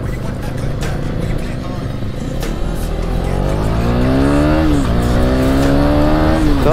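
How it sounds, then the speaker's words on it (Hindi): A 390 motorcycle accelerates on the road, its engine note climbing in rising sweeps with a brief dip before pulling up again, loud and close, with a voice talking over it. "तो अभी भी हम चला रहे हैं जॉनसन का बाइक"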